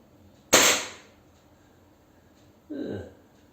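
A Crosman Shockwave .177 air pistol fires a dart at a target ten yards away. One sharp, loud crack sounds up close, and a duller, softer thump follows about two seconds later.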